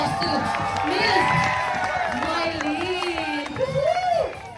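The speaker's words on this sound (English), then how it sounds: "Please give a big round of applause to Miss" A staff party crowd in Dubai cheers and shouts with some applause, a loud, steady wash of voices and whoops throughout, with prominent yells rising near the end.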